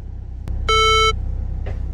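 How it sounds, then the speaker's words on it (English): A single short electronic beep from the alarm of a 20-year-old car with 252,231 miles on it sounds once, clear and close, over a low background rumble. "I don't know if you guys can hear that annoying alarm, but when I flip the camera, it goes off"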